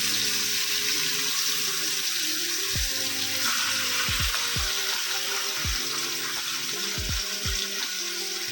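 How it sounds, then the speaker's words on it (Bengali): Marinated chicken fries in hot oil in a wok, giving a steady, hissing sizzle, with a few scattered metallic knocks and clunks over it and no talk. "ম্যারিনেট করা চিকেনটা তেলের কড়াইয়ে দিয়ে দিচ্ছি।"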